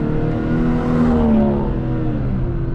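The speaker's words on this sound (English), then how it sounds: "Ooh, you hear those pops?" A BMW M340i engine rumbles and revs steadily, a loud, close exhaust note with a few crackling pops mixed into the drone.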